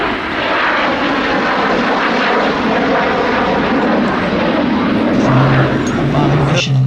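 A Messerschmitt Me-262 jet fighter flying at the RIAT 2023 airshow, a loud sustained engine roar that swells and holds close overhead, with a steady low drone emerging toward the end.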